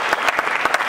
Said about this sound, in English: A loud round of applause.